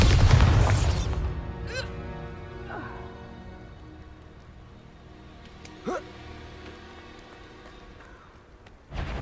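A Bombarda blasting spell in the Hogwarts Legacy video game goes off with a loud booming burst at the start, followed by fainter magical chimes and zaps over a sustained tonal game-music bed.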